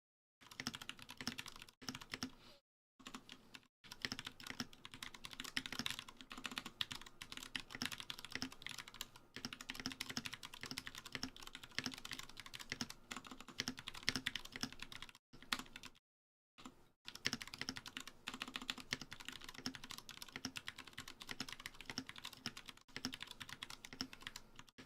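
Steady, continuous typing on a keyboard with lubed Cherry MX Brown switches, soft, muted key presses in quick irregular rhythm, up close, broken by a few brief pauses.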